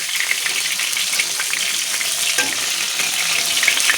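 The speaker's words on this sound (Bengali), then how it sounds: "খুব সুন্দর করে লাল লাল করে মাছগুলো ভাজা করে নিয়েছি।" Stingray fish pieces frying in hot oil, a dense continuous crackling sizzle with occasional sharper pops, loud and close with no talk.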